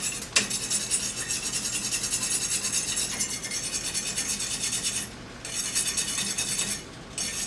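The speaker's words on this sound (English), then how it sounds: "So go ahead and take your wire brush" Wire brush scrubbing brown rust off metal before welding, with a steady, dense scratching that runs almost continuously, briefly pausing twice, close and fairly loud.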